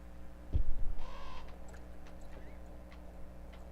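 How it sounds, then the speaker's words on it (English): A crow squawks once near the start in a video game, a short loud harsh call followed by softer ticking and faint background chatter of the game. "Gotta love to have that crow freaking squawking in your face."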